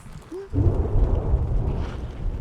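A deep rumble of thunder at a campground rolls in after a brief high tone, sustained and fairly loud before slowly easing.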